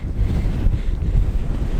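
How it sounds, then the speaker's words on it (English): Strong cold wind gusting across an open mountain summit, buffeting the microphone with a steady, loud low roar and no voices. "Because it's really cold and windy right now."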